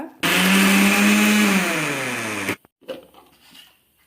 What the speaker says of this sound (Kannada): ಇದನ್ನು ಮಿಕ್ಸಿ ಜಾರಿಗೆ ಹಾಕ್ಕೊಂಡು ರುಬ್ಕೊಂಡು ಬರುವ